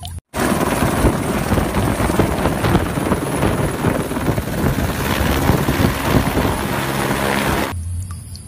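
A loud, steady toy helicopter rotor roar with a thick whooshing drone that runs unbroken for several seconds, then cuts off abruptly near the end.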